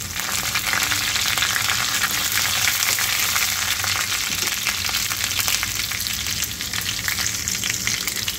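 Curry leaves and garlic fry in oil over a low flame for a fenugreek seed bhaji tempering, a loud, steady, crackling sizzle that runs throughout with occasional stirring, close and uninterrupted by speech.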